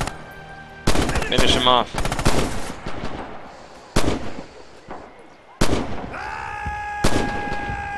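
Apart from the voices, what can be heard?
gunfire in video game Red Orchestra 2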